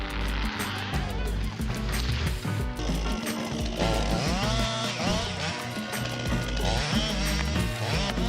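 A powerful chainsaw felling a large tree, its engine held at a loud, steady whine with pitch sweeps as the throttle rises and falls, continuous and close under a layer of background music.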